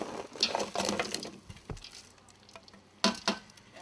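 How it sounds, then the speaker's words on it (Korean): Water heats in a pot inside a Jeju Island women divers' hall, giving irregular close bursts of bubbling and sizzling hiss with quieter gaps between, with no voices. "회관 안에서 냄비에 물을 끓인다."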